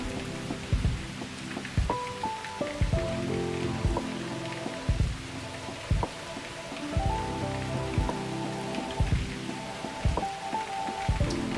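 Steady rain patters and drips on a surface on a rainy summer day, close and continuous, with some soft background music underneath.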